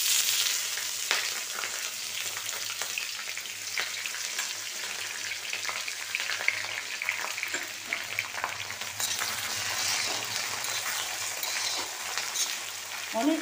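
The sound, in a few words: onions frying in a pan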